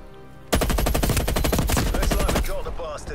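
Rapid automatic fire from a video game gun, a loud sustained burst of closely spaced shots lasting about two seconds after a quieter lead-in, then tailing off.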